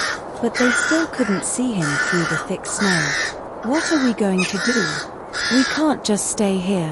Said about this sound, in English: they heard the ravens croak above them